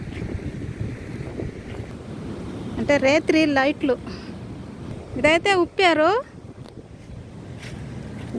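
Steady wind rushing across the microphone at a shoreline, with people talking over it in two short bursts.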